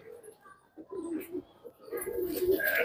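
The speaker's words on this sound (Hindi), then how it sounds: "बहुत प्यारे वजूद की ये कबूतरी" Soft, low coos of a female pigeon sound close by in a quiet setting, a few gentle rolling calls with faint rustling.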